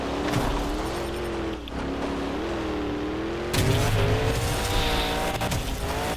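A monster truck in the video game Monster Jam Showdown drifts with a steady, loud engine roar and tire squeal that runs throughout, surging louder and grittier partway through as the slide deepens.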